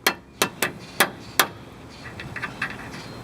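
A hammer strikes a castle nut on an outer tie rod end, five sharp, close metallic blows in quick succession, followed by fainter, lighter taps with no talk.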